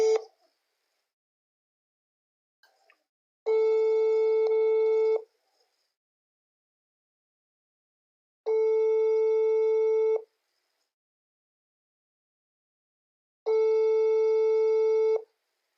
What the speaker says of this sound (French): je lance l'appel